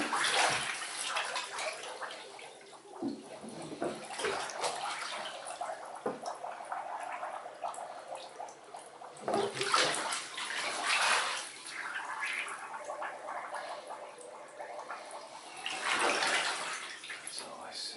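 A Therm-a-Rest sleeping pad is pushed under bathtub water, giving faint sloshing, gurgling and dripping that swells and settles in waves, with quiet talk in places.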